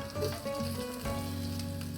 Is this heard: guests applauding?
no